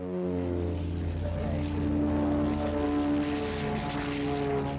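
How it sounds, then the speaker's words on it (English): G222 military transport aircraft with two turboprop engines at the 1976 Farnborough air show, a steady loud propeller drone with layered harmonic whine, sustained and fairly near throughout, with no talk over it. "from Air Italia, the G222 military transport powered by 2 turboprop engines"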